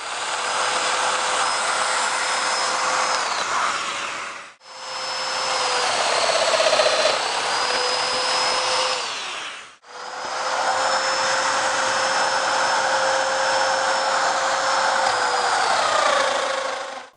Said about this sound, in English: I also want to put a domino slot right here for the kicker that goes between the back and the front piece.